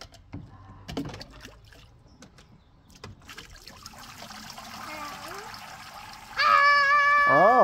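Water trickling and pouring from a water table's shower-like spout, close by, with a voice and adult talk over it and a louder steady splash toward the end.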